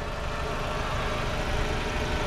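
A Mercedes-Benz W203 C180 engine idling steadily nearby, a low continuous rumble with no knocking and no talking.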